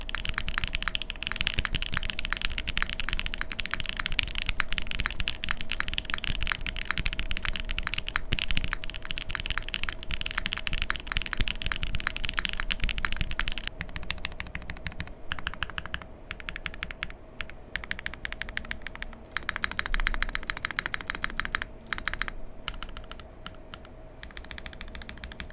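Mechanical keyboard from Cycle7 fitted with Penyus switches on an aluminum plate, typed on rapidly and steadily with clacky keystrokes, dense at first and then sparser and a little quieter after the midpoint.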